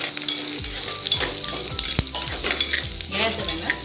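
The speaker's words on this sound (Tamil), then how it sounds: "கடுகு நல்லா வெடிச்சதுக்கப்புறம் கடகடன் சத்தம் கேட்கும்" Mustard seeds crackle and pop in hot oil while a tempering for tamarind pongal is stirred, with sharp close snaps scattered over a continuous sizzle and scraping, and no one speaking.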